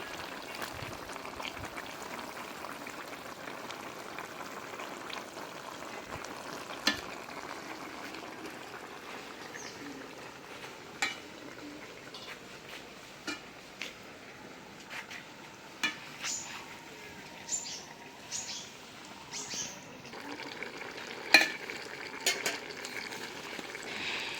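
Fish sizzles and bubbles in a pan with tomatoes added, a steady low frying hiss with scattered clicks and knocks of utensils against the pan, and no voices.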